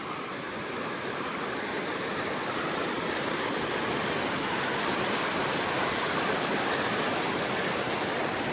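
The silty, glacier-fed Mowich River rushes past in a dense, continuous roar of flowing water. It stays loud and close and holds steady throughout, with no voices.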